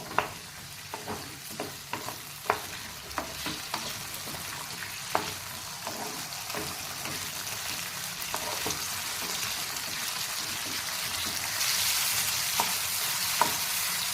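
Carrots frying in a pan on a low flame for carrot halwa, a steady sizzle with frequent sharp clicks and scrapes of stirring, close and alone with no talk.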